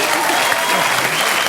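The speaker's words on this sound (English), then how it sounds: "Come on, round of applause for the body." Dense, loud applause from a television studio audience during a comedy panel show, a continuous wash of clapping filling the brief moment.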